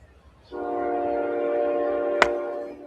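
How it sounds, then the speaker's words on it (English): A train rumbles past with a sustained, steady horn blast lasting about two seconds, fairly close and loud above a quiet background, with a sharp click near the end. "Train's coming"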